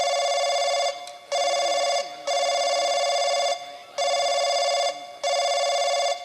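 A telephone ringback tone follows a dialed call: four loud, steady rings with short gaps between them, and faint voices murmur in the background.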